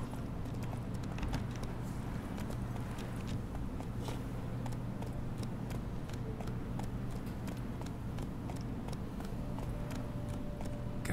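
A horse gallops in The Witcher 3, its hooves striking in a quick, steady clip-clop rhythm that runs the full length of the clip over a constant low rumble, with light clicks scattered on top.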